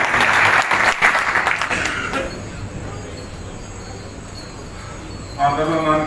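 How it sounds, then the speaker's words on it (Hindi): An audience at a political gathering claps to welcome a newly elected chairman, dense applause that is loud at first and then fades to a softer patter before a voice comes back in at the end. "मैं चाहूंगा कि उनका सभी तालियों से स्वागत करें"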